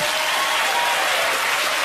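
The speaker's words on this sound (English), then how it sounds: "And you didn't even start that applause." A talk-show studio audience applauds, a dense, even wash of many hands clapping at once, loud and sustained without pause.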